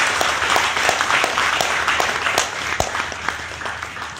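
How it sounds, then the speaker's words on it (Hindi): Loud, enthusiastic applause from a gathered audience at a DXN meeting, with many hands clapping together in a dense, continuous burst and a few sharper individual claps standing out. "एक जोरदार ताली होनी चाहिए भरत सर के लिए।"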